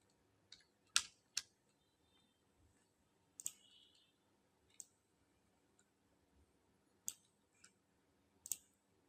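Text is typed on a computer keyboard in sparse, irregular bursts of sharp close clicks, a few keystrokes at a time separated by quiet pauses, with no voice present.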